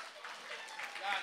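Audience applause and cheering at a live podcast show, a steady wash of clapping from the crowd lasting a little over a second, with voices mixed into the noise.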